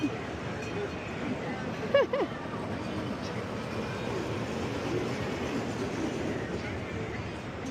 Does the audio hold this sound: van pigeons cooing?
no